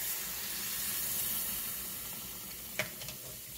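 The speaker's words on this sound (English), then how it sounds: "you're gonna add like a cup to a cup and a half of water" Water pours into a pot of strawberries and sugar for a homemade strawberry syrup, a steady hissing splash at close range that runs throughout and tapers off near the end.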